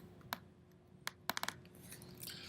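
Typing on a computer keyboard during a screen-recorded class: a handful of sharp, sparse key clicks, faint and close, with a quick cluster near the end and quiet gaps between.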